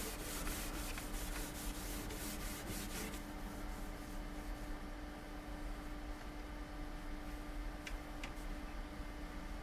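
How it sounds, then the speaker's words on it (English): Fine wire wool rubbed over a freshly applied finish on an antique wooden table, giving a soft, continuous scratchy hiss with quick rhythmic strokes at first, then steadier rubbing and a few faint ticks. "And then before it dries, fine wire wool, just to get rid of any excess."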